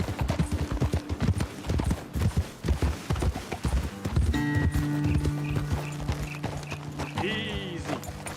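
Horse hooves clip-clop steadily in Red Dead Redemption 2, several horses walking close by, with a brief whinny near the end and a voice talking over part of it.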